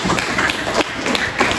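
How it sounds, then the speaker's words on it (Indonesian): Classroom applause for a student: quick, uneven clapping from several children fills the short burst, close and fairly loud, with faint voices mixed in. "tepuk tangan untuk Rehan"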